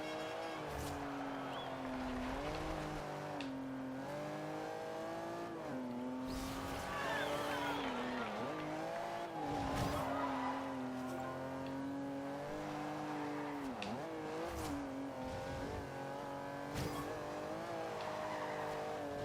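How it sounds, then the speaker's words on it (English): A GT car drifting in the racing game Forza Horizon 2, with a continuous wavering engine note that rises and falls as the tires squeal through long slides, the whole stretch loud and without pause. "This car is quite prone to drifting, I gotta say."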